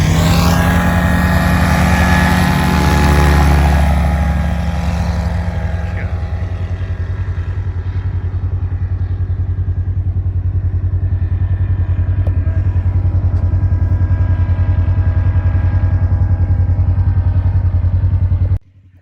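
A Kitfox III light aircraft's engine roars loudly at full power for takeoff, close by at first, then drones steadily as it pulls away. The sound cuts off abruptly at the end.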